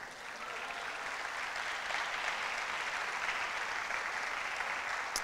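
A church congregation claps steadily for about five seconds in a dense, sustained wash of applause at moderate level, with no voices rising above it.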